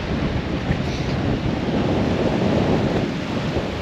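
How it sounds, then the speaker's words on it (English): Strong wind blowing on a beach at Southend, UK, a constant loud roar buffeting the microphone with surf mixed in, steady throughout with no voices. "It's just too windy again."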